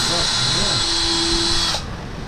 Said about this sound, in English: most of the nail drilling is done with a pierce